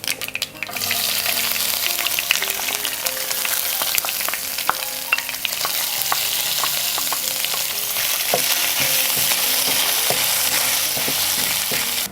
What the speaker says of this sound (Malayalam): ഇനി നമുക്ക് നമ്മൾ അരിഞ്ഞു വെച്ച തേങ്ങാക്കൊത്തും കൂടെ ഇതിനകത്തേക്ക് ചേർത്ത് കൊടുത്ത് വറുത്തെടുക്കാം.